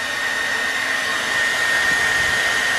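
A heat gun warming window tint film, a steady loud airy blowing hiss with a constant high whine, running close and unbroken.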